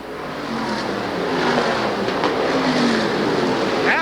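Stock cars roar around Oswego Speedway in the late laps of a race, a loud, sustained engine drone with rising and falling pitch as cars pass.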